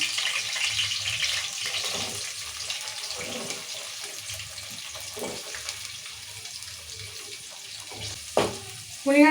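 Sliced onions fry in oil for a mutton curry, giving a steady, close sizzle throughout with a few brief clinks and scrapes near the end.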